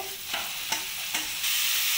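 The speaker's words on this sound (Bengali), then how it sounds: "এবার আমি যে মূলোটা গ্রেট করে রেখে দিয়েছিলাম সেটা আমি কড়াইতে দিয়ে দেব।" Grated radish tossed into spices frying in oil in a wok, with a steady high sizzle and three soft scraping stirs before the frying grows louder near the end.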